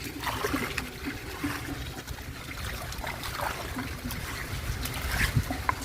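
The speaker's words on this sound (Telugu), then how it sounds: "ఇప్పుడు వాటర్ అన్నీ వెళ్ళిపోతున్నాయి" Floodwater from a flooded house trickles and drains away through a pipe, a steady close wash of running water with faint clinks and no talk.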